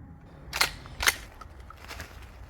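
A shotgun is fired outdoors while a red dot sight is sighted in for turkey season. Two sharp, fairly loud reports land about half a second apart against a quiet background.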